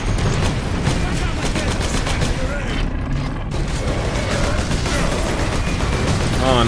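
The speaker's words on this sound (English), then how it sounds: "Grenade." Grenade blasts and gunfire in the Warhammer 40k Space Marine video game form a dense, continuous, loud battle roar with booming hits throughout, a voice talking over it.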